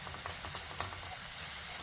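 Spice powders sizzling and frying in a hot pan while making a Kerala egg roast, a steady broadband hiss with faint scraping stirs, close and continuous, with no voices.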